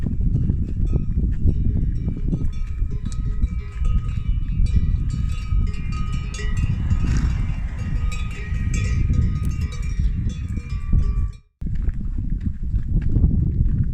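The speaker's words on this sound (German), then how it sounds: "Mit den Kuhglocken um die Hälse sehen die Pferde dann doch nicht so gefährlich aus." Horses wearing cowbells around their necks walk along a rural trail, the bells clanking continuously and loudly nearby with hoof clops underneath, pausing briefly near the end.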